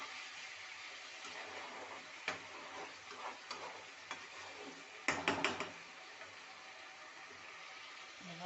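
Lentil fritters simmering in an aloo-masoor curry sizzle quietly in a pan, with a spatula scraping and clattering through a brief cluster of sharp knocks midway.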